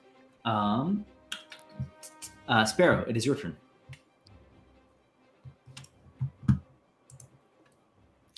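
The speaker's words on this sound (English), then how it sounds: "It's because I keep typing stuff and it's loud." Light, scattered clicks from a computer keyboard tap away close to the microphone during an online Dungeons & Dragons session, heard under and between spoken turns from the players.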